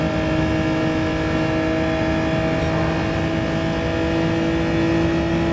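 A Genesis G70 GR4 race car in Gran Turismo 7 held flat out on the throttle at Mount Panorama, its engine a loud, steady, high-revving drone with strong harmonic tones that carries on without a break.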